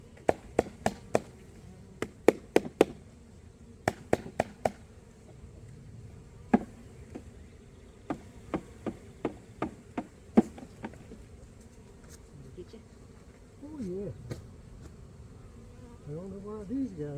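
Package honeybees are shaken into a hive, giving a soft, continuous buzzing swarm broken by a series of sharp thumps and knocks as the package is banged, with some quiet talk near the end.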